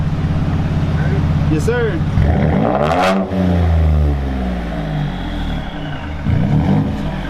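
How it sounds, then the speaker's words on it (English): A Hemi V8 engine revs loudly up close, the pitch sweeping up and settling back to a deep idle, while someone speaks briefly over it. "Gonna have the customer give it a little rev so you guys can hear it."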